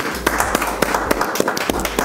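Audience claps and taps during a Chilean urban-music talk show segment, with sparse, irregular sharp hits spread across a couple of seconds, moderately loud over a low hum.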